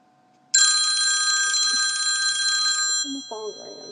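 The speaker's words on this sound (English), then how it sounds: "My phone's ringing." A telephone rings loudly and close by in one continuous trilling burst lasting a few seconds, then stops as a voice begins talking.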